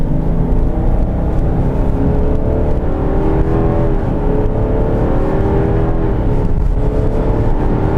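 A 2016 Subaru Outback 3.6R pulls hard under acceleration, its engine droning loud and steady with rising harmonic tones throughout, heard from inside the car with no talk over it.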